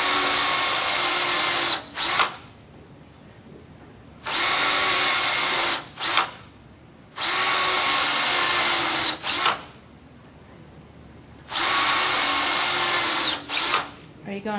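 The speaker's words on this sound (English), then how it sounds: "only this time, I'm going to drill it." A handheld power drill boring a spiral along a marked line into a turned workpiece, running in four steady bursts of about two seconds each with short restarts and quiet gaps between, loud and close.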